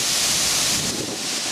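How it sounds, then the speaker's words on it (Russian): Strong wind roars and buffets the microphone in a steady, loud rush of noise by the Oka River in Konstantinovo, Russia, with no other sounds coming through. "Ну и ветер"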